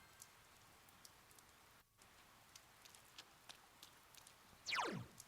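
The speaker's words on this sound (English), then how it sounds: "It's October and it's raining." Steady rain in the video game Persona 4 Golden, a soft continuous patter with a brief dropout and a short swooping game sound effect near the end.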